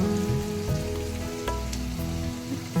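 Garlic hits a hot frying pan and sizzles steadily and close, a continuous crackling fry broken by a few soft utensil clicks.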